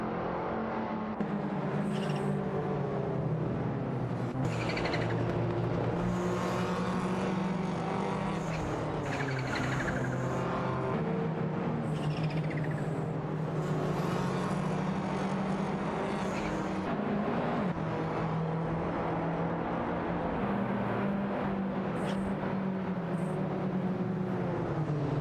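Racing cars in a video game roar continuously, with engine tones rising and shifting as several cars run together, a steady dense drone throughout.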